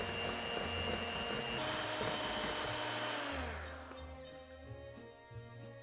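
An electric mixer whirs steadily and loudly up close while beating egg whites with sugar for an Easter bread, its pitch shifting as the mixture thickens, then it winds down to a lower hum.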